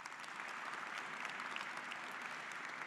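A graduation recognition crowd at an engineering event gives a round of applause, a faint but dense, uniform clatter of many hands clapping without pause and no talking over it.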